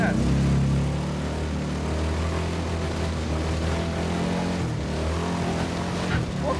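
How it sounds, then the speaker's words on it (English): A motorhome engine fitted in a Dodge Dart drones and revs with a low, throbbing hum that rises and dips in pitch, heard close and loud with some talk over it. "This thing revs pretty good for a motorhome motor."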